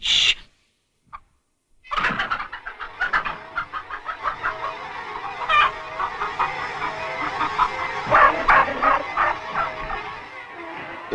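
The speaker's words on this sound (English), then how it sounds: "The chickens seemed to remember old Major saying that their eggs should never be taken from them." Hens in the 1954 animated film of Animal Farm break into a busy run of clucks and squawks after a short silence, a dense, fairly loud flock chorus that keeps going to the end.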